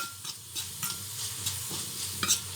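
Mixed ingredients including red tomatoes sizzle and fry in a pan for pasali masiyal, with intermittent scraping stirs and a louder clatter at the end, close and without talk.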